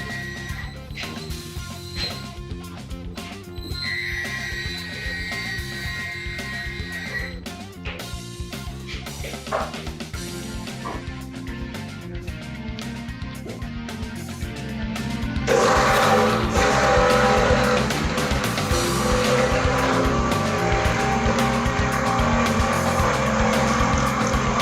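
ROLL RO-3 floor stripper trenching and cutting through vinyl flooring, a close mechanical grinding and rattling with an engine drone that grows louder and harsher in the second half.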